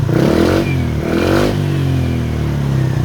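A Suzuki Skydrive 125 scooter, under repair after a regulator replacement, revs loudly up close in two quick throttle blips, then settles into a steady idle.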